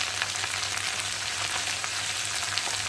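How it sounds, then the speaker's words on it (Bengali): Taro and potato frying steadily in a pan, a continuous even sizzle with faint crackle, as cumin paste, ginger paste, green chilli and turmeric go in; no talking. "কচু আলুটা ভালো করে ভেজে নিয়েছি আর এখন আমি এর মধ্যে মশলা দেবো এই যে জিরে বাটা আদা বাটা কাঁচা লঙ্কা আর দেবো হলুদ"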